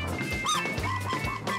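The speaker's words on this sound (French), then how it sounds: "Ça, c'est le son du bus qui appelle les clients." A Kenyan bus sounds its whistle to call customers, a series of short, shrill, squeaky high-pitched toots in an irregular rhythm, close and fairly loud, with low rumbling street noise beneath and no speech.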